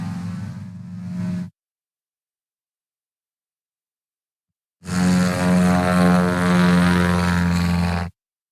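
A 1974 Bellanca Scout taildragger with a checkerboard tail taxis up at a STOL practice event, its propeller engine droning loud and close in two bursts separated by a few seconds of silence.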